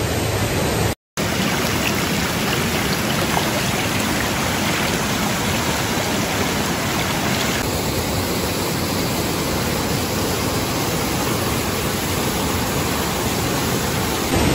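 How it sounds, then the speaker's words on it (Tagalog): A waterfall on Mt. Kiadangat in Maria Aurora, Aurora, roars as a loud, continuous broadband rush of falling water, close and unbroken apart from a momentary cut near the start. "Kita na dito yung napakagandang falls sa likod ng bato."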